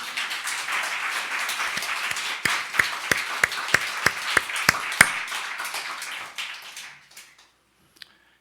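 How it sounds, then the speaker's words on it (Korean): A church congregation claps in thanks: scattered applause builds into a run of sharp, evenly spaced unison claps, then thins out and dies away into near silence, ending with one last faint tap. "감사 박수 한번 불러보세요."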